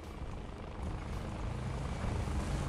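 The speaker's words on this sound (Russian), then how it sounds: "Опять это вертолет." Helicopter rotor drone in the War Thunder video game, a steady broadband thrum that swells slightly louder partway through, heard alone without talk.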